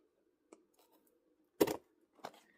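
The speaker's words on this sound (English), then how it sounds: "Me and my little pair of scissors here." A few sharp snips of small scissors cutting the packaging of crochet hooks in a quiet room, two louder cuts separated by pauses, with a faint tap before them.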